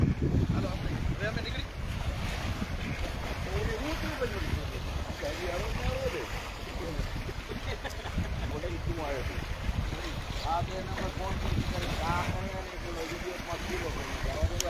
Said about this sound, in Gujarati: આ પાણી હિલોરા મારી રહ્યું છે જાણે દરિયો હોય તેવી રીતના હિલોરા મારી રહ્યું છે